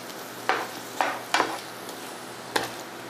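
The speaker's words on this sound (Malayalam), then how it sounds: "നമ്മൾ ചെറുതായിട്ട് അരിഞ്ഞ ക്യാപ്സിക്കം കൂടെ നമ്മൾ ഇട്ട് കൊടുത്തിട്ടുണ്ട്. നന്നായിട്ടൊന്ന് ഇളക്കി കൊടുക്കുക." Chopped capsicum stirred in a frying pan, with four sharp scraping strokes spaced unevenly over a soft, steady sizzle.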